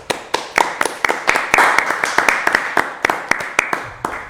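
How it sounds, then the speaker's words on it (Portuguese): A few people clap after a philosophy podcast episode, with close, sharp, individual handclaps in a quick, fairly regular rhythm, loud and clear, with some voices mixed in. "Uma salva de palmas aí"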